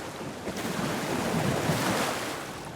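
Sea water in Alan Wake 2 swirls and washes around as a character wades through the waves, a soft, continuous surf-like rush with gentle swells, fairly quiet and without speech.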